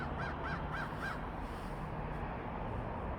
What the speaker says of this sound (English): Oh, there's the crow.